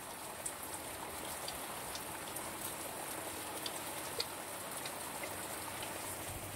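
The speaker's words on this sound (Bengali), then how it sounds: "দেখো কিরকম বৃষ্টি হচ্ছে বাইরে।" Steady rain falling outside, a soft, even hiss with faint scattered drip ticks, distant and constant throughout with no voices.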